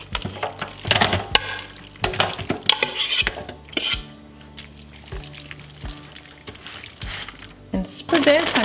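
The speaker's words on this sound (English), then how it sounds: "Take an aluminum pan here and pour the mixture into the pan." A casserole mixture is poured and scraped into an aluminum pan in a home kitchen, with irregular soft thuds, scraping and metallic taps from the pan and utensils.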